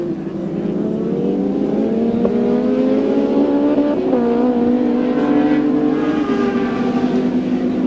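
A touring car circulates at the 1988 Winton round of the Australian Touring Car Championship, its engine droning loud and steady with shifting pitch through gear changes, as though heard from onboard.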